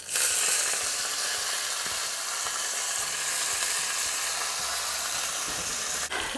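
A tadka of oil with chilies sizzles loudly in a pan as a handful of fresh coriander leaves is tossed in, a steady bright frying hiss throughout with a sharp crackle near the end.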